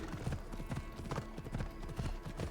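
Horse hooves clip-clopping at a quick, regular rhythm in the Assassin's Creed Odyssey video game, faint and steady over the game's quiet background ambience.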